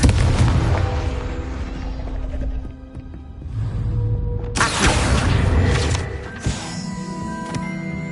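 In the video game Hogwarts Legacy, the Confringo fire spell gives loud booming blasts. A heavy explosion opens, a second sharp burst comes midway, and mechanical rattles and crackling debris fill the gaps.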